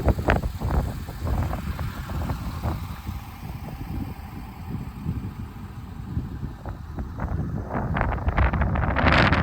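Strong, cold wind on a roadside in Western Australia buffets the microphone in loud, continuous low rumbling gusts with brief crackles, no voices present.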